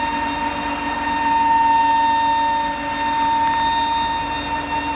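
Lathe machining a crown wheel hub for a 1943 John Deere Model A tractor V8 conversion, a long boring bar reaching deep into the bore; a loud, steady, harsh ringing chatter with sustained whine, continuous and close, no talk.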